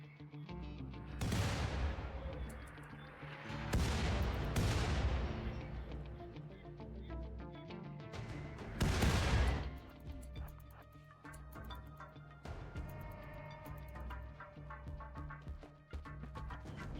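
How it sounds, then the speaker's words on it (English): A mortar barrage of shells fired at advancing machines in RimWorld, three or four separate booming blasts a few seconds apart, each followed by a decaying rumble, then quieter scattered clatter. "they've decided to man the mortars and send a barrage of shells to soften up the machines before they make it to the walls"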